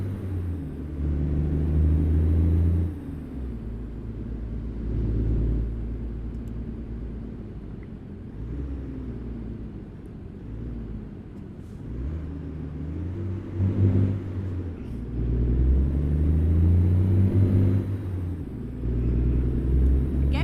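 A heavy truck engine in a driving video game rumbles under torque with a deep, continuous drone that swells and eases over about twenty seconds as the revs change.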